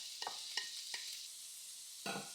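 A spoon stirring buttermilk pumpkin pancake batter in a bowl, giving soft, wet scraping strokes, three quick ones and then a fourth after a pause, faint and close with no talking.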